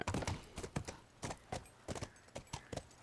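Horse hooves clip-clop in The Last of Us video game, a steady run of sharp, fairly close hoofbeats repeating about every quarter second, heard on their own without talk.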